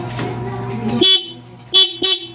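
A loud dual horn on a Suzuki Burgman scooter honks in three short bursts, one after another, standing out sharply over a low engine hum.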